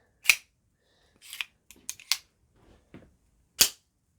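Several sharp mechanical clicks and snaps from a Heretic Hydra automatic knife, close and crisp, with a loud spring-loaded snap as the blade fires open at the start and another near the end.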